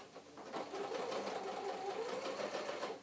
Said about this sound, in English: I'm going to keep sewing fairly close to the edge